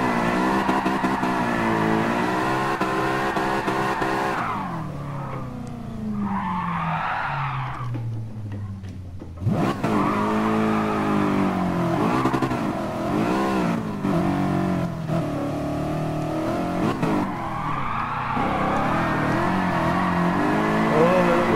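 A BMW E92 drifting in a video game, its engine revving hard and holding high while the tyres squeal, then a brief drop as the clutch is kicked before the engine climbs again, loud and continuous.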